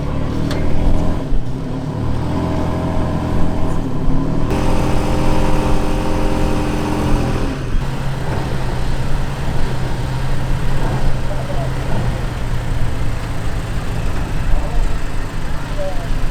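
Off-road vehicle engine in two-wheel drive revving hard while stuck in sand, loud and close, rising and falling in pitch, with people talking over it.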